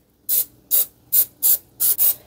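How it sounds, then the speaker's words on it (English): Pam cooking spray hisses out of a can into a 24-cup mini cupcake pan in six short, crisp bursts, the last two nearly back to back, with quiet between them. "Here I have a 24 mini cupcake pan that I'm going to spray"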